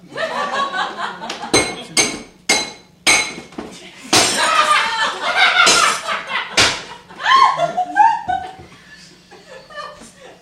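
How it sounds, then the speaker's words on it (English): A shop window smashed in a video game: a series of sharp glassy crashes and clinking shards, loud and close, mixed with laughter and talking. "I'm gonna go out on a limb and say glass breaking"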